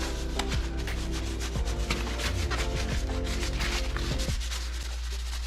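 Close rubbing strokes of a hand wipe scrubbed over a leaf blower's dusty, gummed-up gas tank, a steady scuffing friction that runs without pause.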